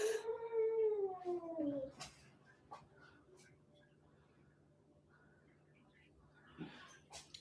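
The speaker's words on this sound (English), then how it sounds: "It's my cat." Domestic cat yowling in a long drawn-out wail that slides downward over about two seconds, followed by quieter room noise, a few faint knocks and a brief later sound.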